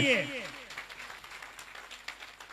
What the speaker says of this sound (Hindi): जोरदार वाली तालियां होनी चाहिए।